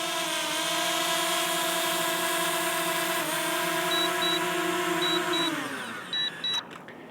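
A DJI Mini 2 drone descending to land on an outstretched hand, its propellers a loud steady buzzing whine that drops in pitch and fades as the motors spin down, followed by a few soft beeps.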